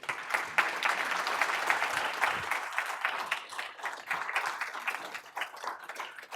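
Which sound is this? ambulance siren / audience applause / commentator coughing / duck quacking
audience applause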